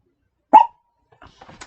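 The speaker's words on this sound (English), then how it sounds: "little Carmelli was barking like crazy" A small dog gives one sharp, loud bark up close, followed by a few faint, soft sounds afterward in an otherwise quiet room.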